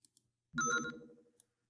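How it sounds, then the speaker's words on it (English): A single electronic vid-phone message chime from the Tex Murphy: Overseer video game, a bright tonal ringtone burst lasting about half a second after a couple of faint clicks, fairly quiet and with no voices. "Sounds like I've got a message on the vid phone."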